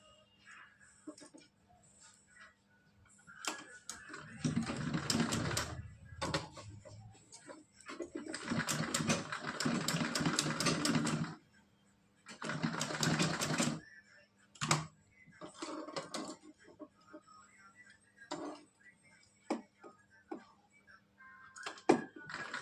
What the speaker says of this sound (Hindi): तो इस पे भी हम सिलाई लगाएंगे।